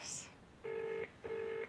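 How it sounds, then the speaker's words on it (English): Tones from dialing a mobile phone: two steady beeps, each about half a second long, separated by a short gap. They sound clear and close, and a brief voice is heard just before them. "I'm going to ring him now on the mobile."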